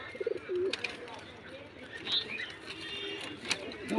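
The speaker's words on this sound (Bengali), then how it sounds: "এই দেখো বন্ধুরা দুটোই ম্যাটাস পায়রা, খুব সুন্দর পায়রা" Pigeons cooing in a loft, soft repeated coos and a few faint chirps at modest loudness, with quiet background noise.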